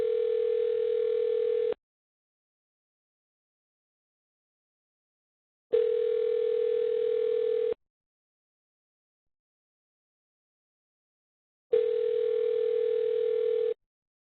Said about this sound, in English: I'm hearing a phone ringing